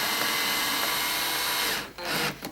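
Power drill driving screws into an illuminated letter, a continuous high whirring buzz that runs steadily before stuttering into short bursts and stopping near the end.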